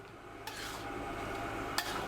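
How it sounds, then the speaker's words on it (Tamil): Quiet scraping and stirring of Bombay halwa in a pot over a low flame, with two brief metallic knocks of a utensil against the rim over a low background hum. "ஸ்லோ ஃபயரில் வச்சு நல்லா கிண்டுங்க."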